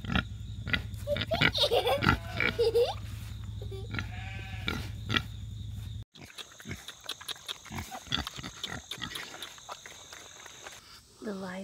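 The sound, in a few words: pig grunting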